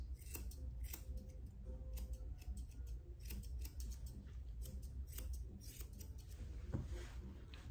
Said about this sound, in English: this hair right in front of the ear, I'm going to trim close